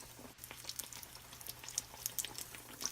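Onion bajji fry in hot oil, giving off a faint, close, irregular crackle and spattering sizzle with soft pops scattered throughout.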